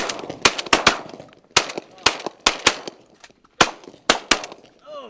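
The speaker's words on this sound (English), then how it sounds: "Oh, good shot." Repeated shotgun blasts during a pigeon hunt, about a dozen sharp, loud reports in close pairs and singles across several seconds, with faint voices between shots.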